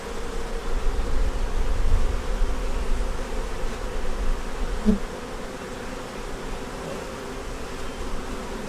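Honey bees buzz continuously around a hive making honey, a dense, even drone of many insects close by with no voices.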